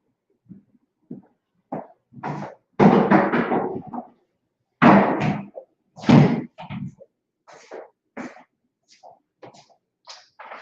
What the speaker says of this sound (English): Let me close the door too, because that furnace just came on.